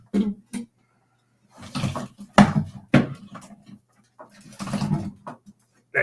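The Pytech Mantis Pod Pro tripod gives several drawn-out squeaks and creaks like a squeaky door, in irregular bursts close to the microphone with quiet gaps between them.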